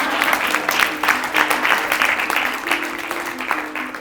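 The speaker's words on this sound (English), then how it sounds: "Please, everybody, let's have a round of applause," A crowd claps continuously in a warm, even wave of applause that fades slightly at the end, with a faint steady hum underneath.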